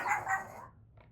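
Two quick close dog barks in succession, followed by a faint short yip, in a home while it is raining outside.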